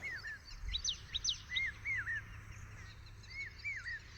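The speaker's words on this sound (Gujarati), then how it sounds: "આવી રીતે બાપૈયાનો અવાજ હોય" Repeated high, shrill whistled calls of a hawk-cuckoo in short rising phrases, several in a row, carrying over a quiet outdoor farm background.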